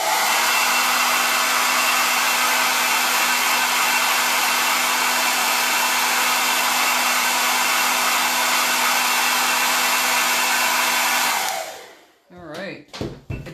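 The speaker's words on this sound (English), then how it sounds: "I'm just going to hit this with the blow dryer." A handheld blow dryer runs as one continuous, loud, even whoosh while drying chalk paint on a craft piece, then cuts off near the end, leaving a few faint handling clicks.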